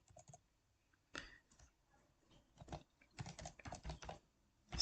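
Someone types C code on a computer keyboard, producing close, quiet keystroke clicks that come in short irregular bursts separated by brief pauses.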